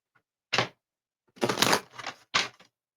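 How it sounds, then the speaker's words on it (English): Tarot cards being shuffled by hand in three quick bursts of riffling and flicking, close and crisp with short pauses between them, no talking. "I'm hearing I need to shuffle again because it's another question."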